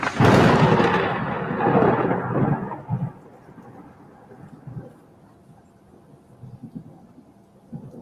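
A heavy thunder clap bursts loudly and then rolls away over several seconds into faint distant rumbles, with no voices.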